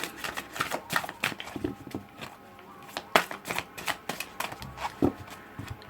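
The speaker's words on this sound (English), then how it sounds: "I'll slip this back into the deck randomly and shuffle" Rapid papery riffling of a deck of tarot cards being shuffled, a run of crisp clicking bursts repeating several times, close up and fairly quiet, with no voices.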